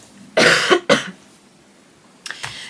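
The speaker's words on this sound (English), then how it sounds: "So I'm going to cough." Two close, loud coughs in quick succession from a person indoors, followed after a pause by two fainter, shorter coughs or throat clears.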